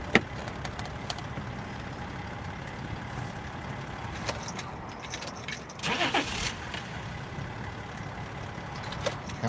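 A car is shifted a short distance outdoors, its engine running steadily as a low rumble with occasional clicks and a louder swell near the middle, with no speech over it.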